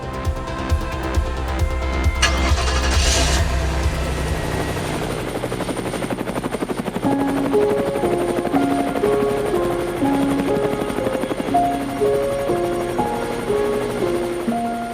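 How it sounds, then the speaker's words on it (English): A helicopter's thudding rotor and engine roar loudly at first over Manhattan, New York City, then fade under a melodic music track that carries on. "a helicopter ride over Manhattan"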